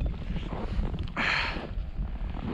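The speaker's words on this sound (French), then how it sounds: "il y a un vent qui nous refroidit aussitôt" Mountain wind in the Western Cwm on Everest buffets the microphone in a steady low rumble, with a brief hissing gust in the middle, loud and close throughout.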